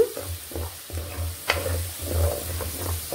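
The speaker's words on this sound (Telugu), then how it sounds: "మనకి అల్లం వెల్లుల్లి పేస్టు అడుగంటకుండా ఇలా కలుపుకుంటూ వేయించుకోవాలండి." Ginger-garlic paste frying on a low flame for a gongura chicken pickle, with a steady sizzle under repeated scraping stirs of a spoon against the pan, close and moderately loud, no talking.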